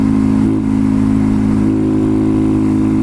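A Honda Grom motorcycle with an aftermarket exhaust and intake and a 14/37 sprocket setup drones steadily while riding. The engine note is a constant mid-pitched hum that holds at a fairly even level throughout, with no talking.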